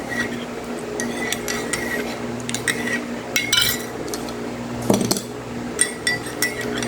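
A spoon stirs coffee in a cup, making light clinks and scraping taps against the cup's sides in an irregular rhythm, close and clear, with a faint hum behind and no speech.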